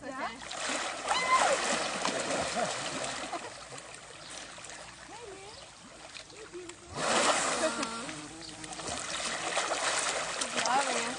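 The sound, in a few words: splash of jumping off an elephant into a river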